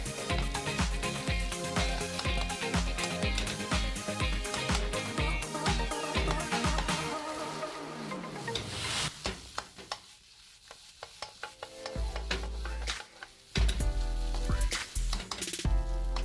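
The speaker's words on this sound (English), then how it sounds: "we will add in the egg whites and stir fry for approximately 10 seconds" Egg whites stir-fry in a hot wok for crab fried rice, giving a dense, loud sizzle broken by rapid rhythmic scraping and clanking of the spatula. Banging grows sharper near the end, with no talking.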